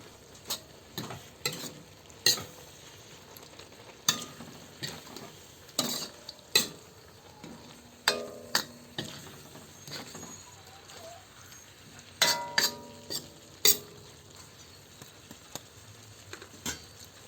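Winged beans simmering in coconut milk being stirred in a pan, a soft sizzle broken by repeated scraping and clinking strokes of a spoon against the pot, fairly quiet and close.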